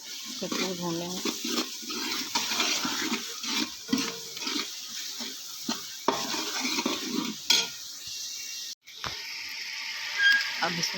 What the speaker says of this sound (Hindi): लहसुन अदरक का पेस्ट भून लिया।